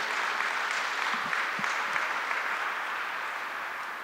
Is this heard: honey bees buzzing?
no